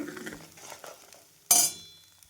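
Ground masala paste sautéed in oil in a pan for fresh pavta bean bhaji: soft scraping stirs, then one sharp spatula clank against the pan that rings out briefly over a faint sizzle, with no talking.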